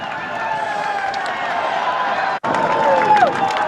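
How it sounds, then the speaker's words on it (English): Roadside crowd at a Tour de France stage cheers and shouts in a continuous dense roar, with whistles and rising calls, as a commentator talks over it. "the noise of the crowd"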